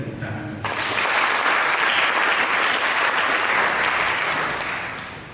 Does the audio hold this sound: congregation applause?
yes